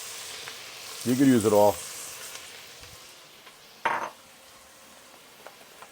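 Onions sizzle and fry in a pan for Bucatini all'Amatriciana with a soft steady crackle, while a voice speaks briefly over it and a sharp utensil clink sounds later.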